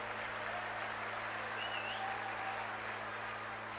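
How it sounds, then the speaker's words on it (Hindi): A crowd at a Hindu gathering in Raipur claps in steady applause that fills the space evenly, over a low electrical hum from the sound system, with no clear speech. "जोर से ताली बजा दो भागवत जी के आगमन में।"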